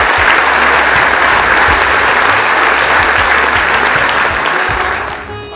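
Audience applause at a Gujarati stage event, a loud, steady burst of many hands clapping close by that holds for about five seconds before starting to fade at the end.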